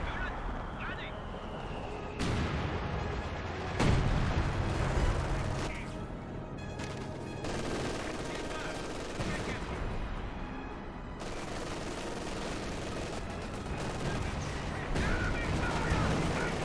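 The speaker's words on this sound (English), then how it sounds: "As more barrage running in, gets some great hits there." Artillery barrage and gunfire in a Company of Heroes 2 multiplayer battle: a steady, dense roar of battle noise with repeated sharp impacts and bursts, loudest around four seconds, continuing through the whole stretch.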